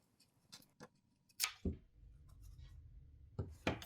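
Soft scratchy strokes of rubbing over a plastic-backed transfer image on a Dollar Tree canvas, followed by a low, steady rustle as the plastic sheet is peeled away. Quiet and close, with no voices.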